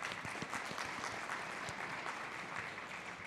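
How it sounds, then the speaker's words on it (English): A conference audience applauds panelists at a data forum, a steady, fairly faint patter of clapping hands that continues evenly for a few seconds. "let's give them a round of applause"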